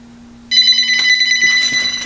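A telephone ringing indoors: a loud, bright electronic ring starts abruptly after a short quiet moment and keeps trilling steadily over a low constant hum, with no one talking.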